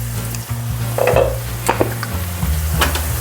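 Spicy egg curry masala is stirred in a pan with salt just added, a spoon scraping in a few quick strokes over a steady close sizzle, with no one talking.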